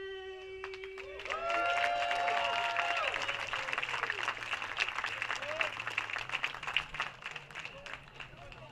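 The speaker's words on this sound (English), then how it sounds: "Big round of applause." A crowd breaks into sustained applause, dense clapping with some cheering that carries on steadily throughout.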